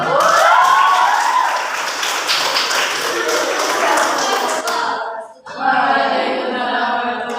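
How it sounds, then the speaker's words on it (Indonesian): A classroom of students claps hands together in a loud, dense burst of applause, which drops away briefly near the end and then resumes just as strongly. "Oke, tepuk tangan dulu."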